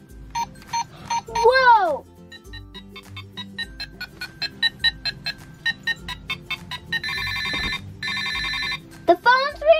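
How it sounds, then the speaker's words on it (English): A toy play cell phone from a princess purse set sounds off in bursts of electronic button beeps, chirpy tones and ringing melodies, loud and close, with a child's brief exclamation between them. "a play cell phone. Oh, let's try the buttons. Let's see if it makes sound."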